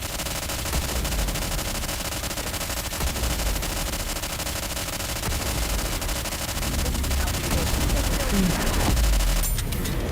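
Sustained rapid gunfire from the video game Nikke, dense overlapping bursts filling the whole stretch at steady loudness, with a voice briefly heard amid the shooting.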